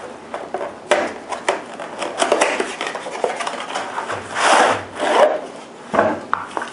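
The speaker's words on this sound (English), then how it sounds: "We're going to take it out of the box and take a closer look at it for you." A Buck Knives X-Large Intrepid knife with a molded nylon handle being taken out of its box: close rustling, scraping and rubbing of packaging in uneven bursts, with no talk.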